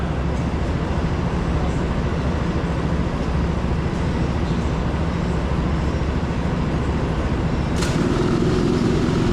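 Go-kart engine at TeamSport Sheffield pulling away from pole at the start, a loud, steady buzzing drone that holds throughout and shifts slightly in pitch near the end, heard up close with no talk.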